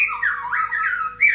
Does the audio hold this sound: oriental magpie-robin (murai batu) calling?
yes